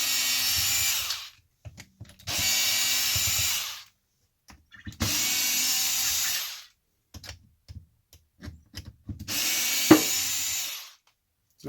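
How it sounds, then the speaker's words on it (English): Power driver backing screws out of a Traxxas Maxx center diff, with four separate whirring bursts of about a second each, spaced by short pauses with small clicks and handling noises. "I take these 4 screws out right here."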